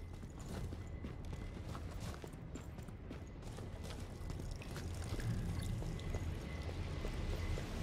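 Water running down in the catacombs of the game Killing Floor 2, a steady, continuous pouring rush that fills the whole stretch and grows slightly louder in the second half, with no talk.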